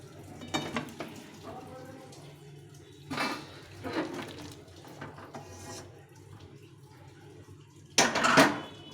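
A cooked Bengali rohu fish curry with tomato clanks as its pot is lifted off the stove, giving a few scattered metallic knocks and scrapes and ending in a louder clatter of pan and utensils.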